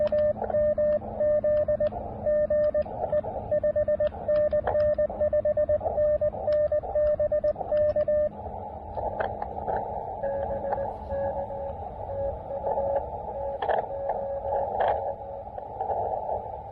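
Amateur radio signal received during an evening park activation at Huntington State Park, with steady carrier tones and rapid beeping that pulses and fades in strength over a hissy, crackling background noise, no talk.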